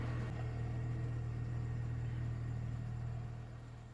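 A 2.4-litre Honda engine with a fault that cuts it out while driving runs steadily with a low, droning rumble and a faint uneven stumble, then fades as it loses power near the end, with no talk.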